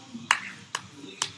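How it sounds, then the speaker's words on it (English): Three crisp hand claps, evenly spaced about half a second apart, land on the strong beat over quiet background music. "practice clapping to the 8 count or the downbeat of the music"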